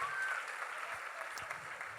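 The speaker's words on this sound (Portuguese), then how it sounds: "uma salva de palmas, excelente pro pastor" Faint, soft applause for a pastor at a church gathering, distant and diffuse with a few voices mixed in.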